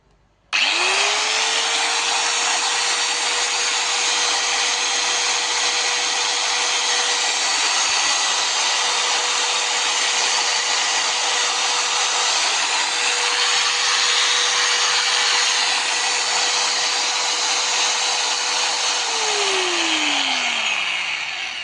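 A DeWalt angle grinder whirs up to a steady high-pitched whine and runs continuously for about twenty seconds, then spins down at the end.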